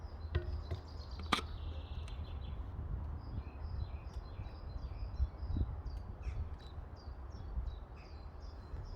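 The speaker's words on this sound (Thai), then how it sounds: "มาเบิ่งฟังเสียงพี่นกร้องเพลงให้ฟัง" Faint birdsong drifts across a quiet rural garden, with repeated short high chirps and tweets over a soft low background hum and no speech.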